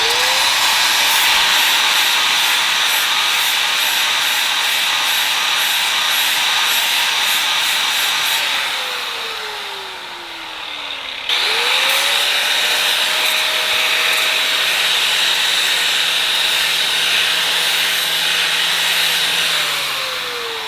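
A torque converter is deburred with a power tool, giving a loud rough grinding hiss. The tool spins down, goes nearly quiet, then winds back up and grinds steadily again, with no talk.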